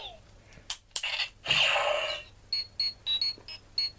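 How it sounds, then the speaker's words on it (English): A Power Rangers Super Megaforce Legendary Morpher toy's communicator sound effect: a short burst of noisy whooshing, then a series of brief high-pitched beeping chirps repeating at a quick, uneven pace. "obviously it's going to do the communicator sound again"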